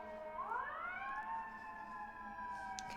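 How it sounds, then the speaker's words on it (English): A siren wails from a distance, its pitch rising then holding steady as it passes, faint and alone against low background noise. "There are loud sirens passing by"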